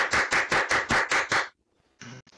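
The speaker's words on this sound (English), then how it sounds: "That was shocking late clapping." A studio audience on a comedy show claps late, about seven slow, evenly spaced claps in a steady rhythm. A pause follows, then one brief closing burst of applause, with no talking.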